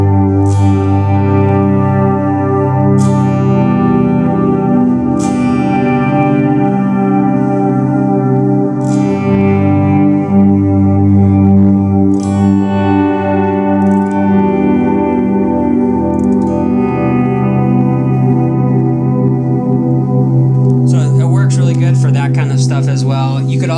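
Electric guitar chords swell in one after another, loud and sustained, drenched in echo and reverb before ending in a shimmering, distorted wash.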